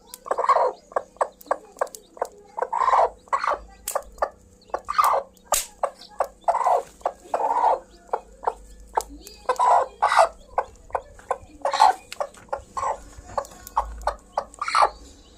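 A broody hen sitting on her eggs clucks in a long series of short, close, moderately loud calls with brief pauses between bursts.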